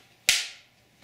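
A film clapperboard snaps shut once on a behind-the-scenes film set: a single sharp, loud clack that rings out briefly and fades, with no talking.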